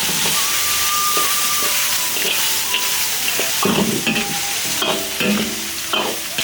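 Duck feet stir-fry over high heat in a wok with bean chili paste fried to a red oil, a loud continuous sizzle and hiss broken by scraping spatula strokes and clanks against the metal.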